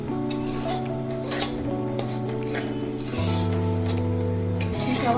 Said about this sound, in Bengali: এবার ঘিয়ের মধ্যে সুজিটা দিয়ে আমি ভালো করে নাড়াচাড়া করছি।